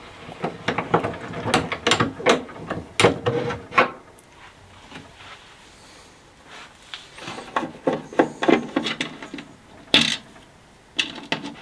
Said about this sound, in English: I'm going to let the motor run down, just leave that to spin till it runs out of energy.